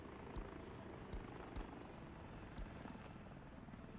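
A helicopter in the video game Workers & Resources: Soviet Republic gives a faint, steady rotor drone with soft rhythmic thumps repeating every second or so, heard alone throughout.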